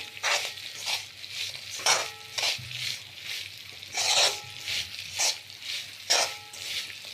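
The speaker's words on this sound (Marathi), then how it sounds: "आपल्याला पाणी न घालता याला पाक करून घ्यायचा आहे गुळाचा।" Jaggery cooked down with ghee and no water in a pan, heard as a soft sizzle under rhythmic stirring and scraping strokes, close and moderately loud, with no voices.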